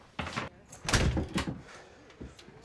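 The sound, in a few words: door closing and being locked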